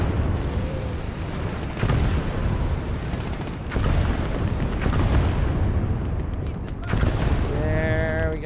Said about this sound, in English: We'll throw a barrage kind of over on our teammate's side.